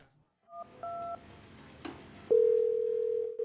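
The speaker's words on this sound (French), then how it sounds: "L'appel est en train de sonner." Telephone call tones: short dialing beeps, then a steady ringback tone that holds for about a second before a new tone begins, clear and alone with no talk.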